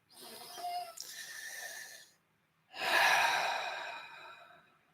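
Two deep, slow breaths close to the microphone, a long airy inhale followed after a short pause by a fuller, louder exhale that trails off, quiet and with no talking.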